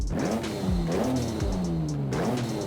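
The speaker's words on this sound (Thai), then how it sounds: "เป็นเสียงของเครื่องยนต์ V6 นะทวินเทอร์โบ" An Acura NSX V6 twin-turbo engine in Forza Horizon 5 revs repeatedly in quick rising and falling bursts, a gruff rumbling exhaust note with turbo whine, no talking.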